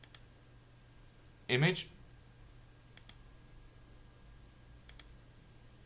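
Computer mouse clicks while choosing a picture for a web page in Kompozer, a few sharp isolated clicks spaced apart, with a brief burst of speech in between.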